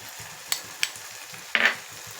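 Curd is spooned into a hot pan while cooking, with a few sharp spoon clinks against the pan and a soft, steady sizzle of frying underneath.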